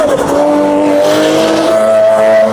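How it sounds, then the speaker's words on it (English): Race cars driven hard around the Magarigawa Club track in Japan, loud engines roaring at high revs with a sustained whining drone and no talk. "So with all these cars driven by race car drivers, they're really going for it."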